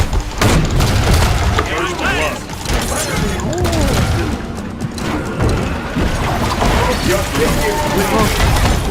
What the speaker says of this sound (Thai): โดนระเบิดแล้ว